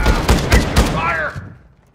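Gunfire from the video game Call of Duty DMZ: several loud, close bursts crack in quick succession, then a whistling tail trails off into quiet. A voice is heard over the shots.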